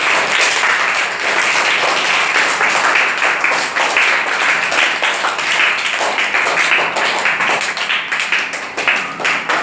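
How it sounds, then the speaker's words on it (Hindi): An audience claps steadily after a group of schoolchildren recite a short poem together, dense loud applause with rapid overlapping claps sustained for nearly ten seconds. "ताली बजाइए सब लोग"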